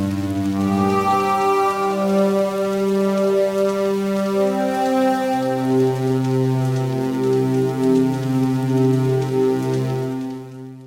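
An ambient synth pad built on a wavetable oscillator, with a pitch and volume envelope sweeping it, sounds as long, overlapping sustained tones that shift slowly in pitch, then fade out, with no voices.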